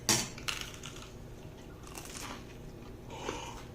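Someone bites into crusty homemade no-knead bread spread with honey butter, giving a sharp crunch at the start and another a moment later, then quieter chewing close to the microphone.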